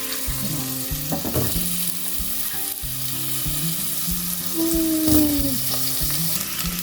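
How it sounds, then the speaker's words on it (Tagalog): Ginger and garlic sautéing in leftover cooking oil for pinakbet, with a steady, moderate sizzle. Utensils clink and scrape against the pan a few times while the food is stirred. "Then, gisa natin yung luya."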